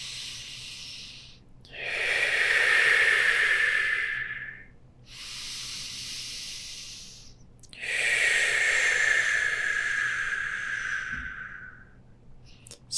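Slow, deep breaths during a yoga stretch, with long airy inhales and exhales alternating in a calm rhythm across several cycles, close and fairly quiet, with no talking.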